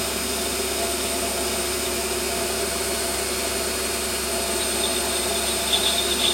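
A lathe runs steadily at 950 RPM, giving a continuous even mechanical whine and hum close by, unbroken and alone throughout.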